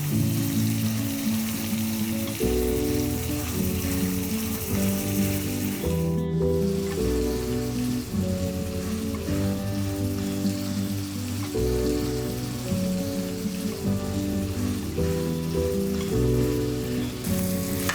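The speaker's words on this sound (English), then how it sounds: "it's time to put the steak. Just hold the steak for a few seconds. Just press it." Steak sizzles loudly and continuously as it is pressed into a hot pan, a dense crackling hiss with popping spatter running unbroken throughout, close up with no talking.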